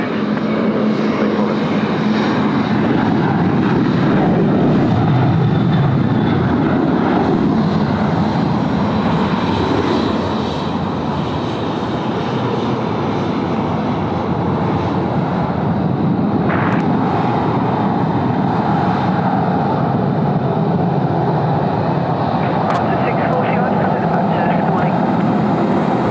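Jet airliner engine roar on approach to Sydney Airport runway 34 left, a broad steady rumble holding loud throughout, with a voice speaking over it and outdoor ambience.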